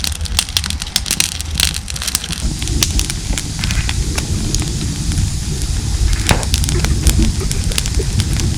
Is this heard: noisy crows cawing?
no